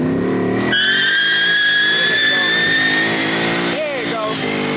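A manual 1993 Toyota Paseo coupe does a tire-smoking burnout, loud sustained tire squeal with wavering pitch over revving engine, close by, with people talking over it.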